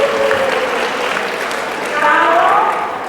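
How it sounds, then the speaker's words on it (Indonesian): Audience applause during a lively Indonesian religious talk session, a dense, steady wash of clapping lasting the whole moment and swelling slightly near the end, with voices mixed in. "tepuk tangan dong"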